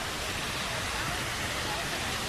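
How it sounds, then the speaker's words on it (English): Water squirts heavily outdoors in Ghent near the Belfry, a dense, loud, unbroken rush of spray that fills the whole moment evenly. "Damn, dude, look at all that water."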